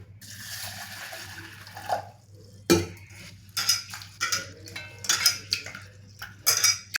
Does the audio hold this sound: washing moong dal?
yes